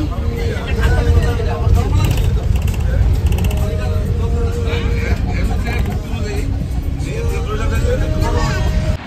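Riding inside a moving bus brings a loud, constant engine rumble and road roar, while passengers talk and chatter throughout.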